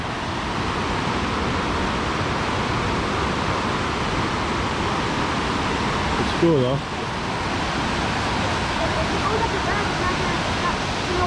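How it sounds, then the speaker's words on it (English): A roaring river right beside a small off-road mini bike loop gives a loud, steady broadband rush that fills the whole clip, with a person speaking briefly over it partway through. "the river's just roaring"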